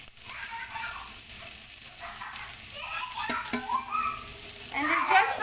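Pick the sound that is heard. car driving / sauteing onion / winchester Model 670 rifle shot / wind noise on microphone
sauteing onion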